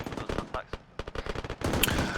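Rapid bursts of automatic gunfire in the military video game Arma during a UNITAF operation, dense overlapping shots firing close and loud in quick succession.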